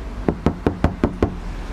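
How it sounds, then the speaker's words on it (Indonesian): Six evenly spaced knocks on a Suzuki Ignis body panel fitted with sound-damping material, each a short, fairly dull thud, close and distinct against a quiet background. "sekarang kita ketok, suaranya seperti ini."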